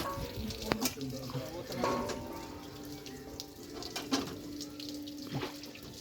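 Water pours and splashes into the radiator of a Mahindra tractor outdoors, a faint running trickle with occasional clanks while someone talks over it.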